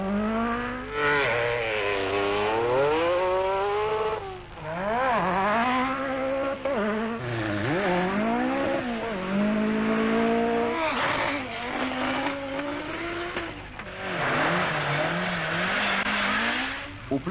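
Rally cars race flat out on Welsh forest tracks during the 1985 Lombard RAC Rally, engines screaming and rising and falling through gear changes as they pass close by, loud and continuous for the whole stretch.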